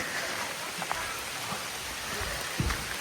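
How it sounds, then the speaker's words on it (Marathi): Steady rain falls outside a cabin beside a lake in a forest, a dense, even hiss of drops with a few louder spatters near the end and no one speaking. "आत्ता पाऊस सुरू आहे आणि तो पावसाचा आवाज"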